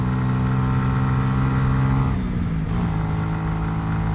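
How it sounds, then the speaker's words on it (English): A Honda CB125F 125cc motorcycle engine drones steadily at high revs while the rider pushes it hard on the road, a loud continuous hum that dips briefly as if shifting, then holds on, with wind rush and no voices. "you very quickly get a feel for hearing how quick the bike is going"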